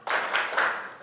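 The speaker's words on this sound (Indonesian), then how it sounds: "Tepuk semangat." A school class claps together in a short burst of a spirit cheer, a brief close patter of many hands lasting about a second.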